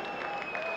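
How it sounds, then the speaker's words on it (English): A darts match crowd applauding and whistling, a brief burst of clapping with a sharp sustained whistle over it, close and steady throughout. "whistles from the crowd"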